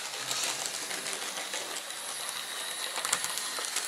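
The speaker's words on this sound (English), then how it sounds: "So this train doesn't go that fast compared to the others. But it's not meant to because it's a shunter." A Heljan Blue Circle Cement D9526 Class 14 model shunter locomotive running on a model railway, giving a steady, close, high-pitched motor whir with faint clicking rail noise throughout and no talk.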